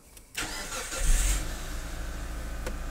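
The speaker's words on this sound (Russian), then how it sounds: "вот автомобиль, автомобиль завелся" A car engine cranks briefly and catches, then settles into a steady low idle rumble close by.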